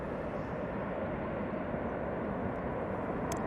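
A Ryanair jet departing from Manchester Airport for Dubrovnik, heard as a steady, broad engine roar that holds at an even loudness throughout without fading.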